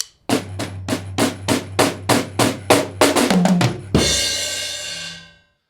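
Drum kit building a crescendo of evenly spaced hits on toms and snare that speed into a quick fill, then a single loud crash cymbal rings out and decays, close and alone.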